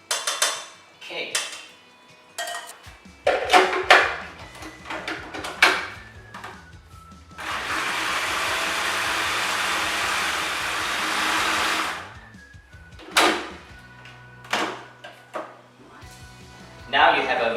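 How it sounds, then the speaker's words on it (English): A food processor blends a whole pot of butter chicken sauce into smooth gravy, giving a loud, steady whir of about four seconds. Pot and utensil clatter and clinks come before and after it. "Put the whole pot of this flavor into a food processor and blend it into a smooth gravy"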